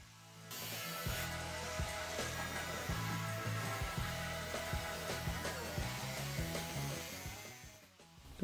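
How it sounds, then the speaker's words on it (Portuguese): A belt sander grinds steadily at close range, a continuous abrasive whir with small shifts in pitch as a 9-inch field knife blade is pressed against it for profiling. "Então aqui eu já parto para a lixadeira, fazer o perfil dela."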